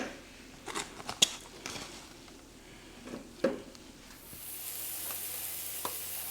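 Pork chops hit an indoor Blackstone griddle with a few taps and clatters, then a steady hiss of sizzling rises and continues, close and moderately quiet.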